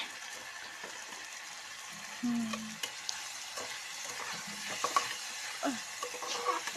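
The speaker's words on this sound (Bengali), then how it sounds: "একটু নেড়ে নেবো এবার খুন্তিটা দিয়ে" A spatula stirs a vegetable curry with turmeric in a hot pan, making soft sizzling under repeated scrapes and metallic knocks, close and irregular with no talking.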